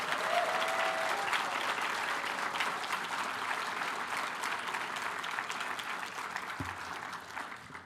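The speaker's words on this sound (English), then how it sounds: "I would love for everyone to give them a huge round of applause for making this happen" Sustained audience applause at the Nebula Awards ceremony, a broad, even wash of many hands clapping in a large room, holding steady before easing slightly at the end, with no talk over it.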